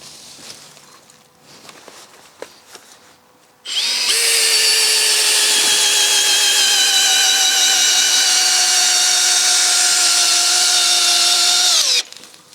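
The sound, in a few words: long screw driven into wooden barn door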